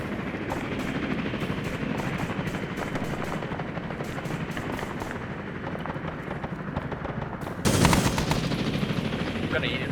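Video game gunfire from MP40 and STG-44 weapons, with rapid automatic bursts crackling almost without pause over a busy battle backdrop, growing louder near the end.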